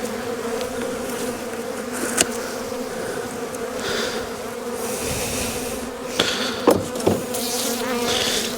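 Honeybees hum around an open beehive during December hive care, a continuous close drone with a few louder buzzes as bees fly past near the end.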